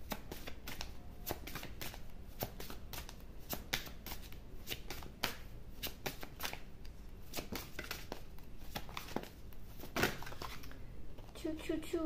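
Oracle cards are shuffled in quick, crisp riffles and flicks, a near, rapid run of papery snaps that continues steadily.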